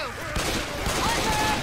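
Rapid gunfire in the zombie shooter Left 4 Dead 2, a loud dense fusillade of shots crackling continuously through the whole moment.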